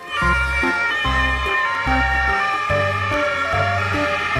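A toy ambulance siren loops an electronic two-tone wail, steady and fairly loud, with a repeating low pulsing pattern beneath the bright warbling tones.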